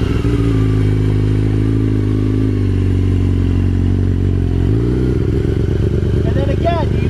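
A Yamaha R6 motorcycle idles loudly up close, then its engine note shifts as the clutch is let out and the bike pulls away, with a steady low rumble throughout.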